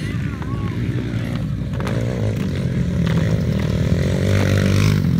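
Pit bike engines drone and rev steadily at a race at Chicagoland Speedway, loud and continuous, while an announcer talks over them.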